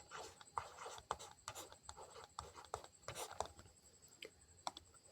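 Pen scratching and tapping on paper while a math problem is worked out, a quiet, close series of short strokes in uneven rhythm with no talking.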